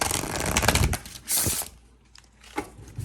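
Tarot cards riffled and shuffled by hand in a brisk burst, followed by softer taps and a couple of small knocks as the deck is gathered, close and fairly loud, no talk.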